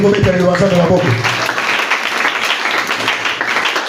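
A church congregation at a French-language sermon breaks into applause, a dense, loud wash of clapping that swells early and then holds steady, mixed with crowd noise and voices.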